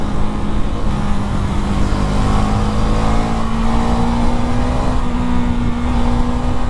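A KTM Duke 390 motorcycle being ridden after its second service, its engine droning steadily and loud with wind and road noise, a continuous hum rising slightly in pitch, with no talk.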